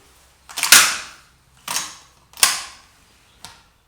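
A Mauser M25 straight-pull rifle's bolt action worked by hand: four sharp metallic clacks and slides in an uneven sequence, close and loud, the last one lighter, with no talking.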